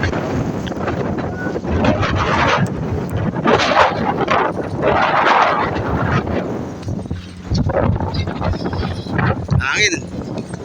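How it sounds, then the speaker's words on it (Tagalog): Strong sandstorm wind roars and buffets the microphone in gusts at a precast concrete factory in Jeddah, a loud, continuous rush with voices faintly underneath. "Tingnan po natin kung hanggang kailan, kung ilang minuto po itong sandstorm."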